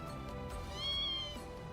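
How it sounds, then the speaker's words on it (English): A cat in the video game Ys X: Nordics gives a single drawn-out meow, clear and fairly close, over quiet background music. "Kitty!"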